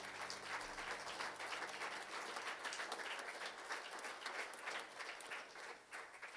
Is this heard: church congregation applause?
yes